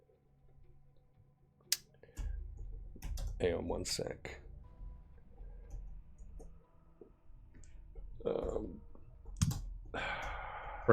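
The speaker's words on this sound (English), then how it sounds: "Typing into a search engine, does this character I made up have telepathy?" Keyboard typing into a search engine, quick bursts of clicking keystrokes in irregular runs, close and moderately loud, with a voice speaking briefly over them.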